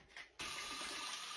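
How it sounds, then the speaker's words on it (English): Tap water pours steadily into a pot of rice after a brief quieter moment, a loud, continuous rushing fill close to the microphone. "Fill it up with water so it's about a thumb's worth above the water."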